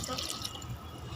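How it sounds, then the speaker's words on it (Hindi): Water from a four-glass measure poured over one kilo of soaked rice in a pot of chicken pulao, a steady splashing pour with dripping, fairly close and continuous. "अब इसमें पानी ऐड करोगी?"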